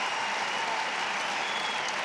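Steady crowd applause in a tennis stadium during a 2005 US Open third-round night match between Rafael Nadal and James Blake, an even wash of clapping held at moderate level throughout.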